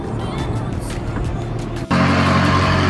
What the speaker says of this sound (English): Wow, this 570S is loud.